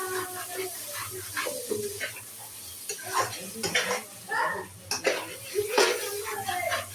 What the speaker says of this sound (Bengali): আবার মাংসটা ভালোভাবে নাড়াচাড়া করে দিলাম যাতে তলানিতে লেগে না যায়